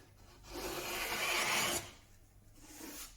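A Stanley No10 carriage maker's bench rebate plane takes a long, close, rasping stroke along a wooden workpiece, followed by a shorter, fainter pass, with no speech.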